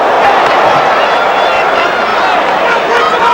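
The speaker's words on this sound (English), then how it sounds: "So the right hand then for Tyson got the cheers" Boxing arena crowd at a Tyson versus Tucker heavyweight fight roaring after a right hand, loud continuous cheering and babble with some clapping.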